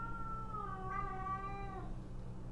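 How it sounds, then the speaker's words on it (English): An indoor cat meows in one long, drawn-out, plaintive cry rising and then fading, heard close and clear over a quiet room hum with no talking. "He's crying to go outside. He's not going out. Keep your cats indoors."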